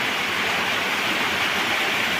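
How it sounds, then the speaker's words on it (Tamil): Floodwater from heavy rain rushes around a house in Tiruppur district as a dense, continuous hiss of flowing water, loud and steady throughout with no voices. "இப்போ எல்லாமே வீட்டை சுற்றியுமே தண்ணி வந்துடுச்சு பாருங்கள்"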